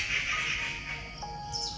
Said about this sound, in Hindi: आई थिंक ये चिड़िया आपस में बातें कर रही हैं।